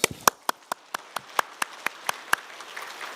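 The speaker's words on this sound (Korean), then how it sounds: "오늘 특별히 삼교구 지휘자 때문에 우리 박수 더 크게 하십니다." Congregation at a special dawn prayer service in a church claps in a slow, evenly spaced rhythm, about a dozen sharp unified claps echoing in the room, fading slightly at the end.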